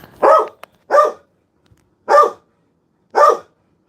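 A female dog barks four times, loud and close, in an uneven rhythm with short pauses between each bark, otherwise quiet.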